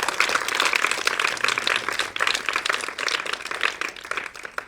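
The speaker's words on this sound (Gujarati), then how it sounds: "એમના માટે એક જોરદાર તાળી પાડ દો." An audience in a cinema hall claps for the theatre owner. The applause is steady, dense and moderately loud, with many hands clapping together and no voices.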